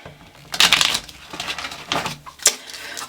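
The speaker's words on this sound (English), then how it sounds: "I'm going to get a quick shuffle here for you" A short burst of papery riffling and flicking as tarot cards are shuffled up close, with a few sharper clicks toward the end.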